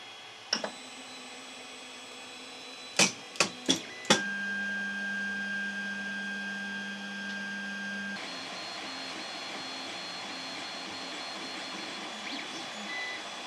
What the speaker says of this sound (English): would it be nice to turn all those noisy original Ender 3 into almost silent machines